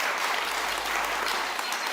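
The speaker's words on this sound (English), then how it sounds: "let's give that a round of applause." Conference audience at a morning event breaking into a round of applause, a full, continuous burst of clapping filling the room at steady strength from start to finish.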